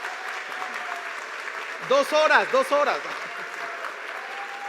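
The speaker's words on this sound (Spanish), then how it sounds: "Entonces, por favor, denle un fuerte aplauso." Church congregation applause during a sermon, a steady bed of clapping under a brief sung or shouted phrase from a voice in the middle.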